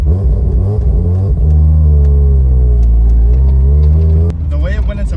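A Subaru BRZ with a swapped rotary engine, turbocharged to about 18 psi, drones loud and close as it pulls and builds boost, with voices talking over the engine.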